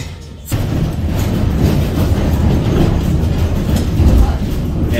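A Christchurch city tram runs along its track, beginning quietly and then swelling into a loud, continuous rumble with wheel clatter as it rounds a corner.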